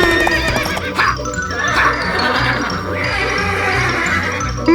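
Toy horse sounds a loud recorded whinny with long wavering neighs, close and filling the whole stretch, with faint chatter and hoof-like clatter mixed underneath.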